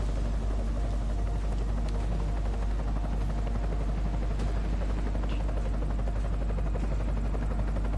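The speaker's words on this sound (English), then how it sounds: "Enemy helo sighted." Enemy helicopter in the Deus Ex video game, a continuous loud rotor chop and whooshing engine roar that stays steady and near for the whole stretch, with no talk.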